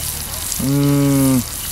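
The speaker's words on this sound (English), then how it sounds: "frying up my chicken. I guess I call it frying since I'm using oil" Chicken fries in hot oil with garlic powder, a steady soft crackling hiss, briefly overlapped by a short humming tone in the middle.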